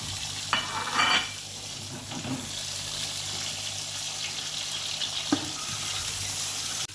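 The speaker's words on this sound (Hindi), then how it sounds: "और यहाँ पे जो मैंने लिए हैं अंडे 5 से 10, इनको हल्का सा फ्राई करूँगी।" Eggs fry lightly in a pan with a continuous soft sizzle, close and steady throughout, broken by a couple of brief clinks and stirring scrapes, with no voices.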